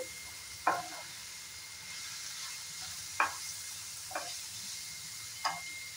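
Spices and ingredients for jackfruit curry fry quietly in a pan, with a faint steady sizzle and four sharp, separate stirring scrapes or taps spaced a second or two apart, with no talking.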